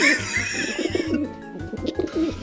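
A pet bird cooing close by, with low, soft, repeated dove-like coos in an irregular rhythm under a busy wash of background noise, and no talking.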